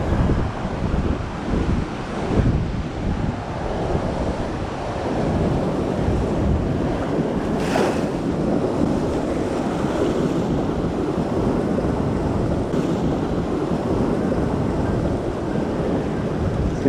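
Ocean waves wash onto the shore of a sand island, a steady broad rush of surf mixed with heavy wind buffeting the microphone, continuous and fairly loud with no talking.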